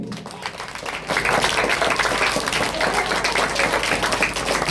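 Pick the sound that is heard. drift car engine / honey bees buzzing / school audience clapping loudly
school audience clapping loudly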